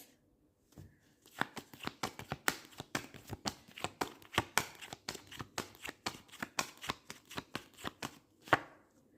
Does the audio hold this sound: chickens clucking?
no